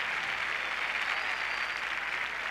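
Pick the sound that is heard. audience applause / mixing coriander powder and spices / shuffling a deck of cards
audience applause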